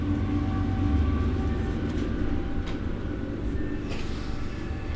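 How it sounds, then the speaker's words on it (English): A train rumbles past nearby, a steady low, continuous roar with faint higher rail noise that holds at the same loudness through the whole stretch, heard alone without any talking. "I think that's a train going by"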